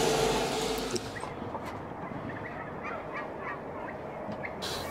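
Turkeys gobbling and honking in a busy flock, loud and close at first, then continuing steadily a little softer.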